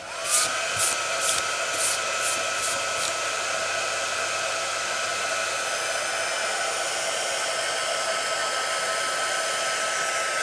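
A heat tool melts white embossing powder on a card, blowing with a loud, steady whoosh for the whole clip after a few quick clicks at the start.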